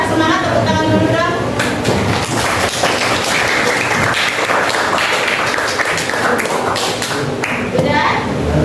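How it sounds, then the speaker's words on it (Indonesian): A class of students claps hands together in a classroom, with rhythmic, near and loud clapping and taps alongside a talking voice and chatter. "tepuk tangan dulu dong"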